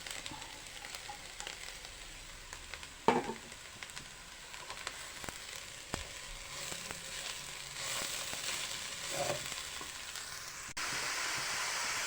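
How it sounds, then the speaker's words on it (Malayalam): Sliced bitter gourd and carrot sizzling steadily in a hot pan for a Kerala thoran, a continuous close crackle with a few louder spits and stirring scrapes. "നമ്മുടെ പാവയ്ക്കായും ക്യാരറ്റും കൂടി ഞാൻ ഇങ്ങോട്ടിട്ട് കൊടുക്കുവാണ്."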